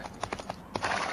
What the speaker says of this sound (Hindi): भाग भाग भाग स्टैमिना वाले घोड़े भाग